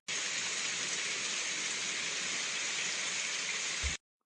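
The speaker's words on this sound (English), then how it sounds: "It started to rain." Steady rain pouring down during an outing to a convention, a dense, even hiss that holds for about four seconds and then cuts off abruptly, with no voices.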